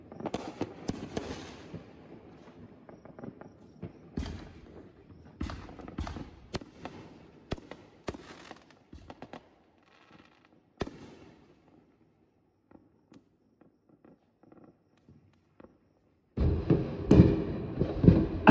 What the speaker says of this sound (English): it's gonna be loud because I live in a place where fireworks are totally legal and our neighborhood is crazy with fireworks